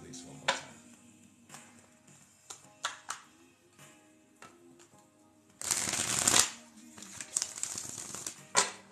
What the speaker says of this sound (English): I'll shuffle these one more time.